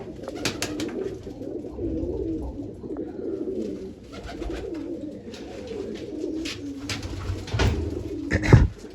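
Pigeons coo in low, rolling murmurs that continue throughout, punctuated by occasional sharp clicks and rustles close by.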